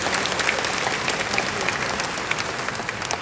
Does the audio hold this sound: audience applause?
yes